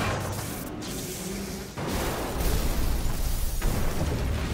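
Explosion in the video game Resident Evil 6, a sustained loud rumbling blast with a dense roaring body that swells midway and keeps going without pause.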